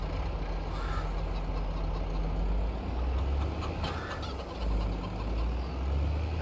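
A tractor engine in Farming Simulator 22 drones with a low, continuous rumble, fairly even and moderately loud, with a few brief bursts layered over it and no talking.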